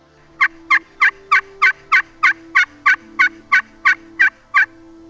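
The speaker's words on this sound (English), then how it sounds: "Any type of slate pot call is generally good for really a wide range of wild turkey sounds" A series of sharp, evenly spaced wild turkey yelps made on a slate pot call, about fourteen in a row, sounds up close over a faint steady hum.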